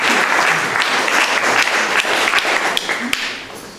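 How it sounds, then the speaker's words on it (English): An audience applauds the judges at an art open submission event, a dense, loud burst of clapping that tails off after a few seconds. "I'd like to give them a round of applause"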